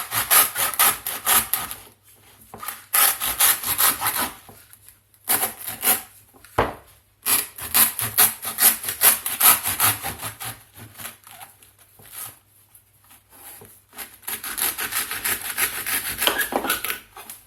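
A serrated bread knife saws through the base of a coconut shell. The strokes come close and fairly loud, in rough bursts with short pauses between them, and no one speaks.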